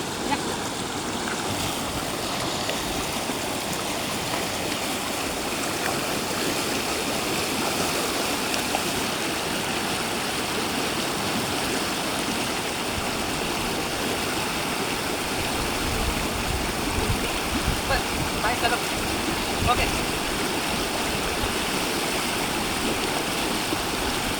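Water rushes steadily over a waterfall and along a stream near Badlapur, a constant broadband roar close by for the whole stretch, with no voices on top.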